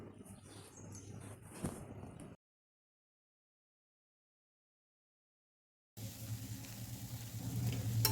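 Aluvadi slices pan-roasting in oil, giving a soft steady sizzle, quiet and close, in two stretches separated by a few seconds of silence.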